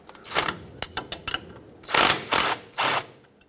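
A socket wrench ratchets on a nut on a 1996-2002 Toyota 4Runner wheel assembly, with quick sharp clicks followed by a few longer buzzing ratchet runs, close and clear.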